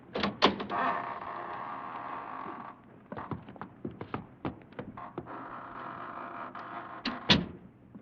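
A door opening in a radio drama, with a creak and clunks followed by a series of soft knocks and shuffles, mid-distance and moderately loud, with no talk over it.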